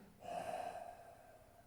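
A single soft exhale through the nose or mouth during a Pilates Hundred exercise, a brief breathy rush lasting about a second and fading out, close and quiet with no talk.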